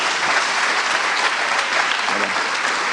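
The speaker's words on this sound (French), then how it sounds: "je crois qu'on peut l'applaudir." Steady, dense clapping from an audience at a conference's closing talks, loud and continuous throughout.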